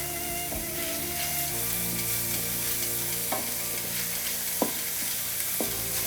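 Chicken curry frying in a pan with a spoon stirring through it, steady close sizzle throughout with several sharp scrapes and taps of the spoon against the pan.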